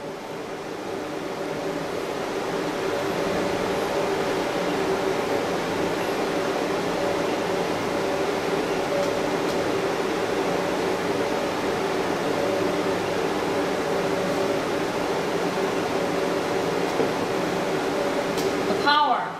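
An EMSlim Neo body sculpting machine runs with a steady, even mechanical hum and whir that stays loud and unbroken throughout, ending in a brief click near the end.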